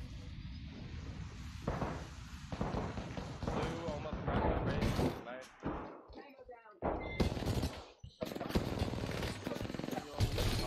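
Close-quarters hip-fire gunfire in Apex Legends, with dense bursts of rapid shots and impacts across the whole stretch, loud and near, mixed with game effects and players talking.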